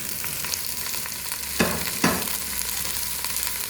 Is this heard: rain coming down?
no